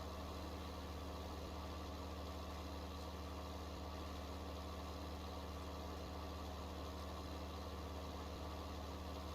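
Constant engine hum of a tractor fitted with a big engine in Farming Simulator, a quiet, even droning rumble with a faint vibration, continuing unchanged with no voices.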